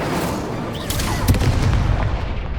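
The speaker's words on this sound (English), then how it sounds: "Break through red shields with damage spells like the fire-making spell, Incendio." Incendio fire spell cast in Hogwarts Legacy, a burst of booming, crackling blasts swelling halfway through and holding loud over a dense game-combat background, with no talk.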